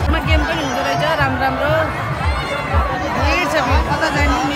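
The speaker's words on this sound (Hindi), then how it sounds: "भीड़ भीड़ भयंकर भीड़" A dense, noisy crowd packs the riverside Nahan fair at Laxman Ghat, a steady wash of overlapping chatter and babble with a nearby voice speaking over it.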